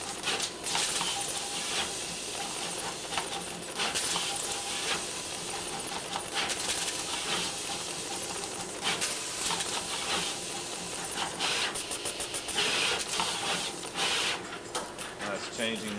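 Pick-and-place machine seating electronic components onto a circuit board, a steady mechanical whir and hiss with rapid ticking and clicking of the moving head throughout, even and close.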